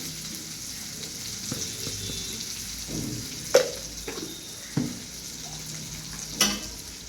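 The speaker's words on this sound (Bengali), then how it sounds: "লো ফ্লেমে আমি এটাকে কষাচ্ছি মশলাটাকে, নাহলে পুড়ে যাবে তো।" A spice paste with ginger paste and salt sautéing over a low flame for cabbage dhoka, with a soft steady sizzle broken by a few sharp spatula knocks against the pan, close and without talk.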